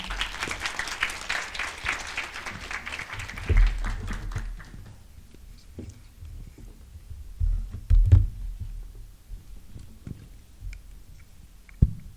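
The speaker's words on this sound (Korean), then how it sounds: "발표를 맡아줄 경영대학 홍보대사 큐브 장윤 회장과 추민규 부회장을 큰 박수로 맞아주시기 바랍니다" An audience at a Korea University business school admissions information session applauds to welcome the student presenters. The clapping is loudest for the first few seconds, then fades to scattered thumps and handling noise in a large hall.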